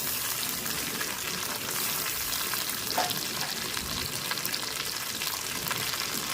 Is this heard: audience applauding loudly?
no